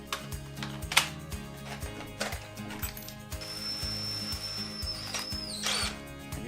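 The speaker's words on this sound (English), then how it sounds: "I want to pre-drill holes for these nails." A power drill pre-drills nail holes in boards during a window installation, with repeated short bursts of motor whine and pauses between them, followed by a higher sustained whine near the end.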